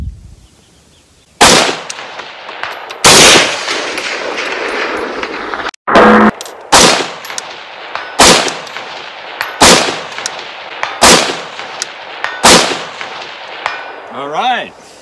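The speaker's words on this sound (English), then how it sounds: "Now that was shooting at the IDPA" Rifle shots fired at an IDPA target through a Swampfox SABER 5x36 prism optic, outdoors: a string of about eight loud, sharp reports spaced irregularly a second or two apart, each with a short ringing tail.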